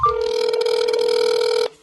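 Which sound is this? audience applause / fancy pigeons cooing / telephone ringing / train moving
telephone ringing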